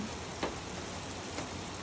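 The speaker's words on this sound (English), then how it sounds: "It never just stops raining." Steady rain falls during a hot, humid spell in New Zealand, a soft continuous patter with a couple of louder drips, faint and with no talking.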